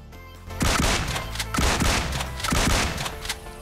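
A DBS shotgun fires in the mobile battle-royale game BGMI, three heavy blasts spaced about a second apart, loud and close over steady background music.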